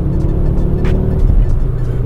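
A Ford Focus RS Mk II on a racetrack at full throttle, its engine roaring loud and close with a sustained, steady drone that holds without letup across the whole stretch.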